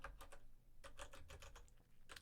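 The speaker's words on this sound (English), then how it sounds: "So we'll type" Keys on a computer keyboard are tapped in quick bursts, a faint run of crisp clicks with short pauses between groups and no voices over them.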